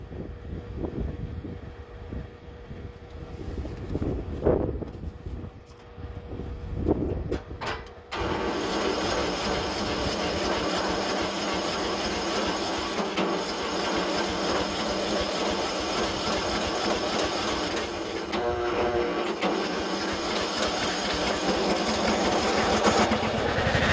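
A Briggs & Stratton small engine being cranked: uneven rattling and thumps at first, then a loud, steady droning roar that holds close and constant to the end.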